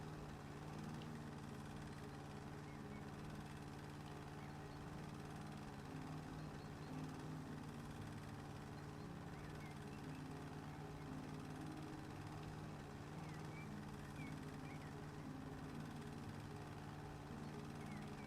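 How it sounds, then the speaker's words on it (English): A lawn mower in the video game House Flipper drones steadily for the whole stretch, a continuous even engine hum at low level with no breaks and no talking. "Lawnmower is so hard to use."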